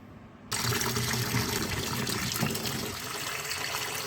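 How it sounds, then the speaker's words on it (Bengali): Raw mangoes are washed under running water, a sudden steady gush of tap water into a bowl or basin that starts after a brief quiet moment and continues with splashing and sloshing. "চলো আমগুলোকে ধুয়ে নিই।"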